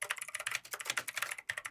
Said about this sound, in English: Hold on, this is literally me typing.